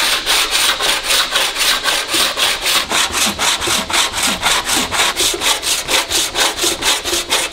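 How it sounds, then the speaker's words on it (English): A body file scrapes across an alloy metal panel on a 1932 Lincoln KA, giving a steady run of close, even rasping strokes, roughly three per second, each a bright scratchy pass with no pauses. "And all this does is scrape the metal off very slightly."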